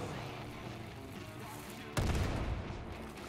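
Gunfire in the co-op video game Far Cry 5: after a stretch of quieter game ambience, a single loud crack hits, followed by a noisy rumbling tail.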